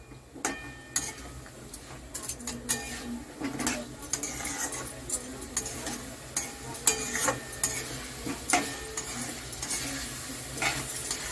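Meat cooks in a pan over raised heat in a Bengali kitchen, a low steady sizzle under repeated sharp clinks and scrapes of a spatula stirring against the metal, fairly quiet and close.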